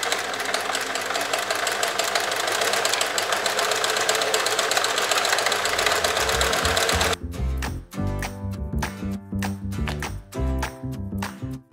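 A sewing machine runs a long continuous running stitch for a ruffle on a sweatshirt, without backstitching, then stops and restarts in short clattering bursts, close and clear with no talking.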